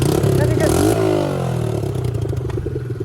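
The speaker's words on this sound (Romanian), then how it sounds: "O să știi cum poți să încălzi motorul" ATV engine warming up, running close and loud with a revving surge that settles into an uneven, rattling idle.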